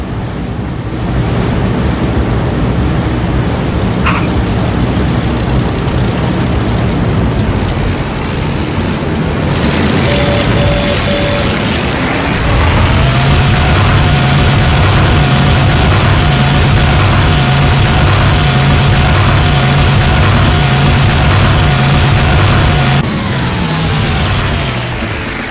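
A WWII-era propeller aircraft engine in Heroes of the Pacific throttles up, a loud continuous drone that shifts partway through into a stronger, higher steady roar with a pulsing beat and holds for many seconds.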